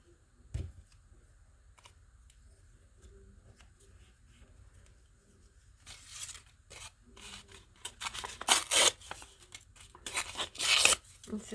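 Scissors trimming drop paper for a watercolor collage, with sharp snipping and rustling bursts coming in quick clusters after a quiet stretch, close and crisp, and the paper handled between cuts.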